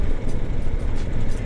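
The engine of a KOVE 800 Adventure motorcycle turns at low revs with a deep, rumbling, pulsing drone that stays steady and fairly close for the whole moment, with no voices.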